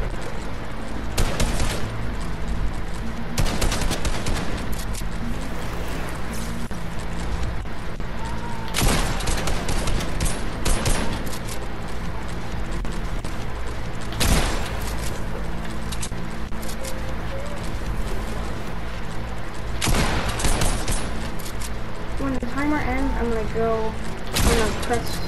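Fortnite Creative gunfire: repeated loud bursts of shots cutting through a constant dense game soundscape over about twenty-five seconds, with some speech mixed in.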